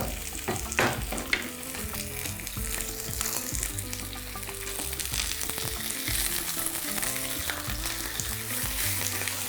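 Pieces of beef sizzle and fry in a pan with garlic, a dense, continuous crackle and hiss close up, with occasional scraping as the meat is stirred and turned.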